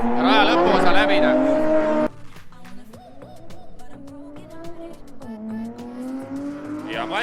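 A rally car drifting on a track at a rally park rises into a loud revving engine howl, then continues as strained, varying engine tones at a greater distance, with a commentator talking over it.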